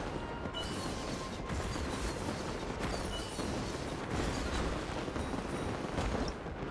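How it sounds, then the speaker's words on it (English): Fireworks during a Genshin Impact event crackle and pop continuously, a dense rolling barrage of bursts and booms at a moderate distance, no pause between them. "with all the fireworks everywhere"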